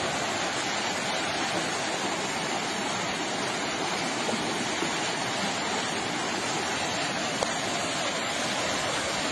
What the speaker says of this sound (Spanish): Бурные потоки снасили машины.